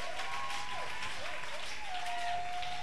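A church congregation at an evening service applauds Jesus Christ, with steady, dense clapping filling the room and voices calling out over the top.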